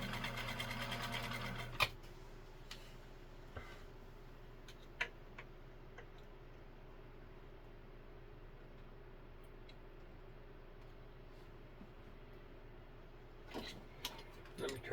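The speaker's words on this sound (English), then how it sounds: "we're not going to wind the whole bobbin" A Nesco de Luxe push-button zigzag sewing machine winds a bobbin in a brief, faint whirr that stops after about two seconds, followed by scattered soft clicks and ticks in a quiet room.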